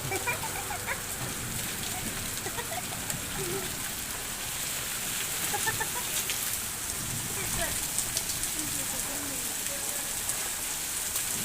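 Steady rain falls at Fort Monroe, a continuous hiss of drops on surfaces with scattered patters, moderately loud and even throughout, with faint voices in the background.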